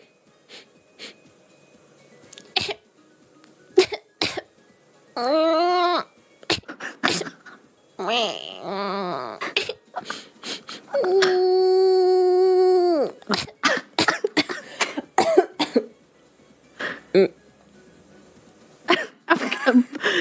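A voice imitates a baby's cough in several sustained, wavering bursts, separated by sharp short vocal sounds and breathy noises, fairly close and loud.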